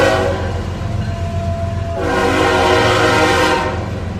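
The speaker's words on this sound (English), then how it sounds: "Yes, that was a train." A train passes close by with its horn sounding, a loud sustained blare that swells again midway over the rumble of the rails.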